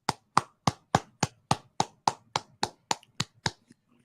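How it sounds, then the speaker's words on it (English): A small group clapping in unison at the close of a scripture class, about thirteen sharp, evenly spaced claps, close and distinct, then stopping. "Let's clap it up."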